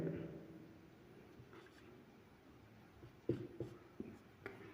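Faint marker or chalk strokes scratch across a classroom board, soft and scattered, with a few sharper taps near the end against quiet room tone.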